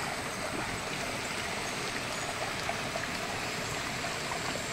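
Hot spring water flows in a steady, continuous rush like a stream, close and fairly loud with an even hiss and no talk.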